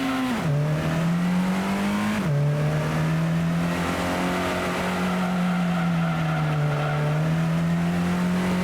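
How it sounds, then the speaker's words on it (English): A car spins out while drift racing in the Gran Turismo video game, its engine droning loudly with pitch shifts as the tires squeal and skid continuously, no voices. "Yeah, I'm definitely spinning out."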